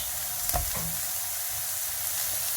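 Chilli powder, cumin and black pepper fry in a pan, a soft even sizzle with a couple of light stirring knocks early on, close and fairly quiet, no voices.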